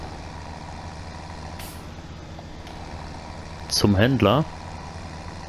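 A Case tractor engine in Farming Simulator 17 drones steadily throughout, and a voice briefly speaks over it. Near the end a loud warbling tonal burst cuts in.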